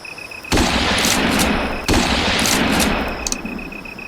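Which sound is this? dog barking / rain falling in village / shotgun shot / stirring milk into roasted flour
shotgun shot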